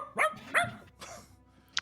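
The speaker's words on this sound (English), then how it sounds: "you hear the dog in front of him." A small Chihuahua poodle mix barks two sharp, close yaps in quick succession, followed by a softer whimpering yip and a brief click at the end.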